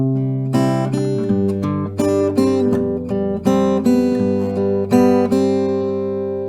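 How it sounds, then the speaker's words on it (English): Acoustic guitar plays the melody, each high note backed by extra strings strummed together, giving a sequence of full, ringing chord accents played close and clear with no talking. "And if you want, you can go with more than just these strings to support the melody."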